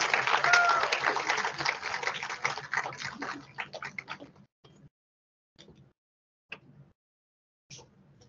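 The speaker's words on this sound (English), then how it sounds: "Can we have a big round of applause?" A burst of audience applause at a student council installation and awards ceremony, loud at first and tapering off after a few seconds, followed by a few scattered claps.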